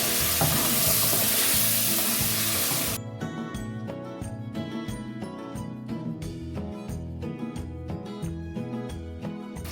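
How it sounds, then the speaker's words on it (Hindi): Mutton fries in a pan with yogurt. A loud spitting hiss opens and then cuts back to a softer sizzle with stirring, under background music. "अब हम इसको करेंगे खूब अच्छी तरीके से भुनाई दही डाल के"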